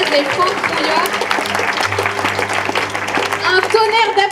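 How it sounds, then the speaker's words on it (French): An audience at an end-of-year Christmas show applauds, a moderate patter of clapping under a speaker's voice over a microphone. "Un tonnerre d'applaudissements pour Stéphane"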